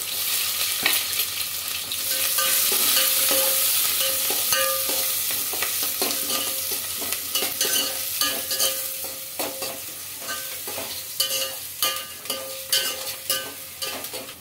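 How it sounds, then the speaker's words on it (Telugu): Onions and whole spices sizzle steadily in a hot pan for egg dum biryani, with loud continuous frying hiss and frequent scraping stirs and clinks of a spoon against the pan throughout. "మసాలా దినుసులు వేగిన తర్వాత కొన్ని ఆనియన్స్ అయితే వేసుకుంటున్నానండి"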